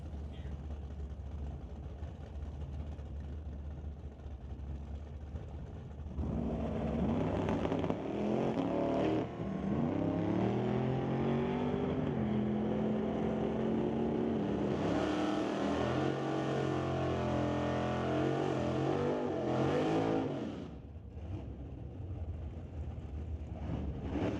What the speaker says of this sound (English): John DeBack brings up that Rat and Torque Simpsons S10 once again to race against Rob Monroe Sr. for White Knuckle Racing in the Model A.